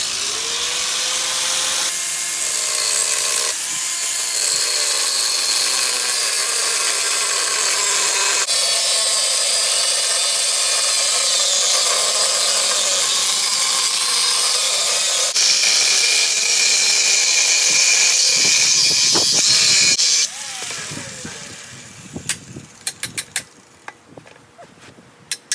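A cutoff wheel grinds steadily through a metal mid plate (engine mount plate), its loud high whine shifting pitch as the cut progresses, then giving way to quieter scattered clanks and taps near the end.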